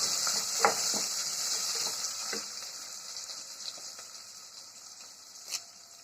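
Onions and dried red chilies sizzling in hot oil in a pan as they are stirred, a soft continuous frying hiss with a few scraping stir strokes, close and fairly quiet, gradually fading.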